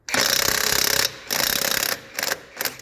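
A Parkside cordless impact wrench from Lidl hammers at a rusty nut, loosening it in three loud, rapid rattling bursts: a long burst, a second burst after a short pause, then two brief final bursts.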